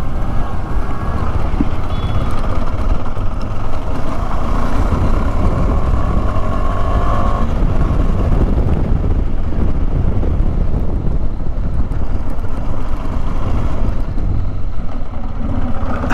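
A KTM Adventure 390 motorcycle heading off-road, its engine a steady low rumble close by, mixed with strong wind buffeting across the whole stretch and no talking.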